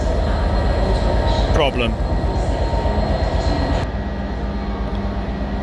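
Class 67 diesel locomotive with a fault at Shrewsbury station, a steady loud engine rumble and rail noise filling the platform, with people talking over it.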